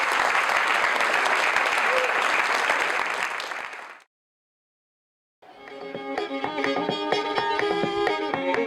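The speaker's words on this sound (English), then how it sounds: "Can you give a round of applause for them, please?" An outdoor crowd at a town bicentennial celebration in Frostburg, Maryland, claps in dense, loud applause for about four seconds, then cuts to silence before music begins.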